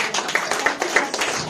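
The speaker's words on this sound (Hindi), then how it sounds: "जो ताली बजाओ।" A church conference congregation claps in a loose rhythm of sharp, fairly close hand claps, repeating steadily over a roomy background.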